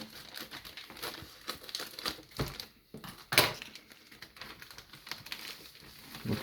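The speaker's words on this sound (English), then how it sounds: "Let me get some scissors to cut the plastic back." Scissors snip through thick plastic packaging around a car booklet during an unboxing, giving a run of close, crinkling cuts and rustles with a sharper snip near the middle.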